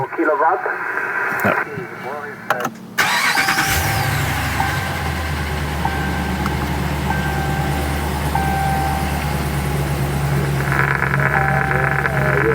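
A truck engine's steady low drone and hum come through a mobile HF radio installed in the truck, laced with whining interference and crackly radio noise. A short choppy stretch at the start gives way to a loud, constant signal.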